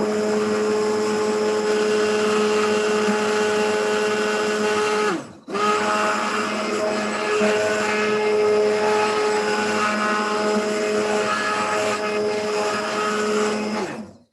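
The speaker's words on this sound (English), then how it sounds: "Just a little while with my hand blender." A hand blender whirs steadily at close range blending pea and mint soup, a high, motor-driven drone, briefly cutting out midway before starting up again and running on.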